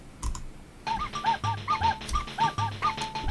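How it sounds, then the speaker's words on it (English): Short, yappy dog barks repeat in a steady rhythm over a low thumping beat, close and fairly loud, in the video game Animal Crossing: New Horizons. "You got these like barking dogs."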